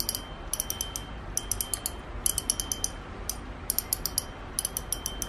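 Revfork Altic 4000 spinning fishing reel turned by hand, giving bursts of rapid, bright metallic clicking from its mechanism, close and crisp, in short repeated runs separated by brief pauses.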